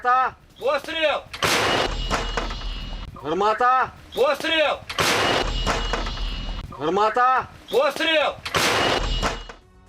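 American-supplied artillery guns fire in the Ukraine war. Three heavy booming blasts with rumbling tails are spaced a few seconds apart, and someone speaks in short bursts between them.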